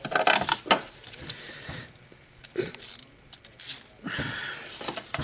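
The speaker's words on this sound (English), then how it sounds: "as I ratchet back on it, I'm going to try just hold the socket here" A ratchet turns a socket on the idler pulley bolt of a 1998 Cadillac. Scattered close metallic clicks and small rattles come in short, irregular bursts at low volume.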